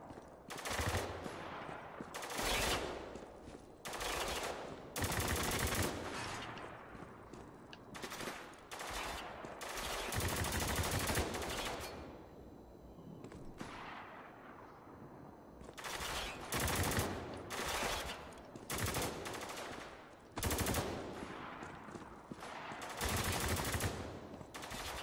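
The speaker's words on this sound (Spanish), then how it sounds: "Uno que está disparando para acá atrás." Repeated bursts of automatic gunfire in the Spec Ops: The Line shooter game, loud rapid volleys broken by short pauses and lone shots across a long firefight, with no talk.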